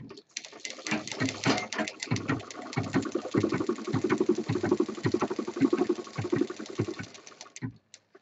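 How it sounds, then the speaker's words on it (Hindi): Close, rhythmic sewing-machine stitching pulses along steadily for several seconds, joining a pocket onto an office handbag, with the motor chattering in quick uneven bursts before stopping. "अब इसको हम यहाँ रख के पूरा सिल देंगे"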